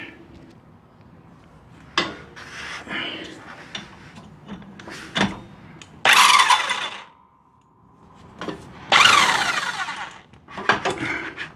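A 5/8 nut being loosened from a John Deere lawn tractor's pulley assembly, close metallic clicks and clanks with two longer harsh bursts of tool noise in between.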